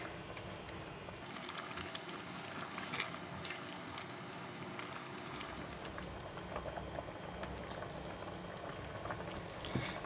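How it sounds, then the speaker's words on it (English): Steady bubbling and gurgling of a pot of pork belly soup with pickled mustard greens at a rolling boil, a dense continuous simmer with small pops, close by and fairly loud. "The soup is boiling."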